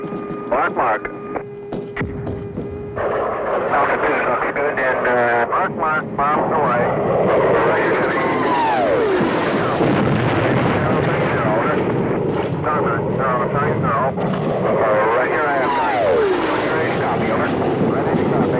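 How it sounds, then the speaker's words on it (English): A military observer plane flies overhead during a Vietnam War operation, its engine a loud, continuous drone that swells and holds steady for the full length, with no talking. "Observer plane spots the enemy position."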